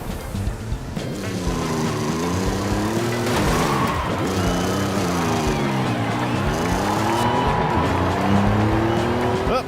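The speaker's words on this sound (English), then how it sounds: "The engine sounds in this game are kind of ugh from time to time." A car engine in Forza Horizon 5 revs up and down in repeated sweeps, with tire squeal and skidding mixed into the steady, loud racing noise.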